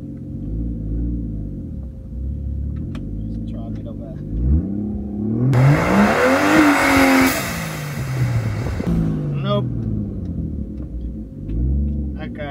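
A Mercedes W203 fitted with a turbocharged M104 engine revving hard in second gear, building to a loud roaring peak mid-run before dropping back, with people talking and cheering nearby.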